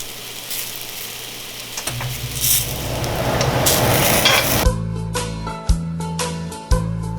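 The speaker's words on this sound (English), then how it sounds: "We're going to fry our bread" Bread and tortillas fry in melted lard with a close, crackling sizzle that builds over several seconds before the sound cuts to clicking, mechanical noises.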